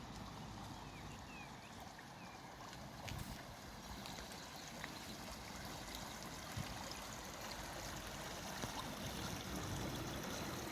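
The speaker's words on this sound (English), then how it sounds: "This river here isn't a real river. It is what's known as a leat, and it's what feeds the three massive water wheels that fuel the forgery." Water flows steadily along a leat feeding the three large water wheels of a Victorian forge, a constant broad rushing and trickling wash with no voices.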